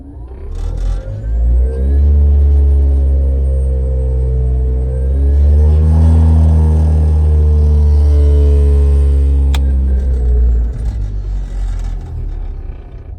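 A 2008 electric Porsche 914 conversion gives a loud, steady mechanical hum and rumble with a harsh vibration, rising in pitch partway through and then settling back. No one speaks.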